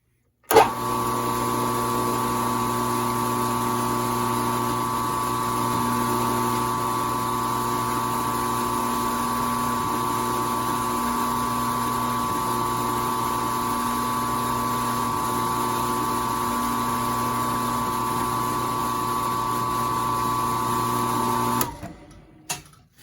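An oiled pin head spinner for slipjoint knives spins on a steady motor, giving a continuous tonal whir with a strong hum that holds evenly for about twenty seconds before it stops.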